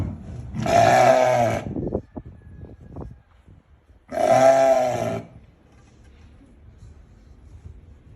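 Two loud, drawn-out roaring calls from an Assaf ram, a pure dairy sheep breed, each about a second long and separated by a short gap with faint clicks and knocks, with no talk.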